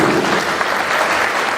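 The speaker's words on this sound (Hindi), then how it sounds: "आप सभी का एक बार जोरदार तालियां बजा दीजिए।" Dense, steady clapping from a live audience at a Hindi ghazal poetry recital fills the short stretch, loud and close, with no voices rising above it.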